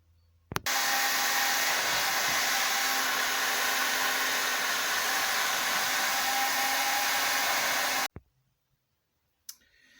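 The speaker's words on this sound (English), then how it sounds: "I think I'll go ahead and heat this up with a heat gun for a while and try and get it out that way." A heat gun warming a Showa damper part switches on with a click and blows a loud, steady whooshing hiss for about seven seconds, then cuts off into quiet, with a faint click afterward.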